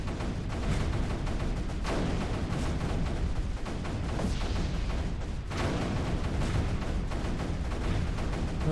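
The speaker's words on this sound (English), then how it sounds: "Lots and lots of cannons." Dense, continuous barrage of cannon fire from massed turrets in the Creeper World strategy game, a loud unbroken rumble of overlapping booms and thuds with no pauses.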